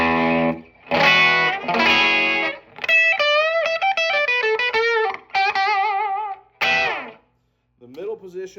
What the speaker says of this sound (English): And then you got the single coil sound.